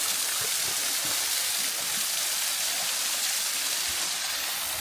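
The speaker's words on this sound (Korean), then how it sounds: "폭포 소리가 나서 돌아보니 구승폭포가 있습니다." Gusung Falls in a Chuncheon valley, where the stream is frozen over but water still runs beneath the ice, makes a steady, full rushing roar that continues without a break.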